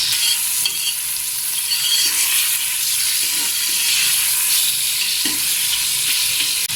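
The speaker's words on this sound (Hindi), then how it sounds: "भुनेंगे ताकि चिकन का कलर चेंज हो जाए" Chicken pieces fry in hot oil with cinnamon sticks and whole black peppercorns for a turnip chicken curry, giving a loud, steady, close sizzle and hiss with faint stirring underneath.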